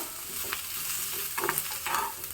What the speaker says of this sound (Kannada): ಎರಡು ಹನಿ ಕೊಬ್ಬರಿ ಎಣ್ಣೆ ಹಾಕಿಬಿಟ್ಟು ಚೆನ್ನಾಗಿ ಹುರ್ಕೊಳ್ಳೋಣ